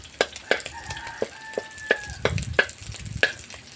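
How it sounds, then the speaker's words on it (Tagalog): Garlic, onion and ginger sauteing in a pan crackle softly beneath repeated sharp clinks and scrapes of a spatula against metal, with a few ringing tones and muffled knocks. "ako po ay magigisa ng bawang, sibuyas, at luya"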